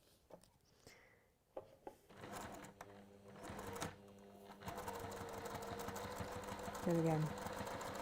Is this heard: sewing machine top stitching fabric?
yes